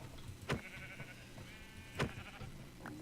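Sheep in the video game Minecraft bleat in two short, fairly loud bursts about a second and a half apart, with a fainter third call near the end over a steady low background.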